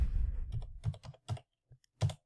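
Several keys are struck on a computer keyboard in a short, uneven burst of close clicks separated by brief pauses.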